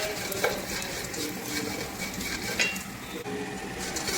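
Dried shrimp and anchovies sautéing in a little oil in a pan, with a steady close sizzle broken by a few clinks and scrapes of stirring.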